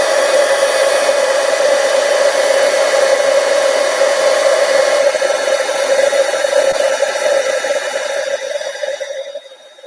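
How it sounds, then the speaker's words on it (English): A handheld heat tool blows a steady, loud whooshing roar for about ten seconds while melting embossing powder on a card, and the sound fades as it switches off. No one speaks. "I'm going to bring in my heat tool, and we just heat this up until it melts."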